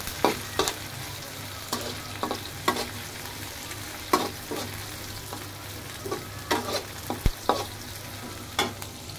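Shrimp and onion fry in hot oil, a constant sizzle punctuated by repeated sharp scrapes and clacks of stirring at an uneven rhythm, close up and free of speech.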